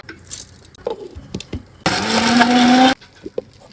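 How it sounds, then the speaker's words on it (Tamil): A kitchen mixer whirs loudly for about a second, a short burst of grinding a smooth spice paste between quieter clicks and handling noises. "இந்த மாதிரி நைஸ் பேஸா அரைச்சி எடுத்துக்கங்க."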